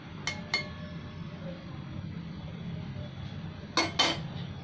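A lid goes onto a pot of simmering sour-sweet onion curry, with two light metallic clinks near the start and two more near the end over a soft, steady background.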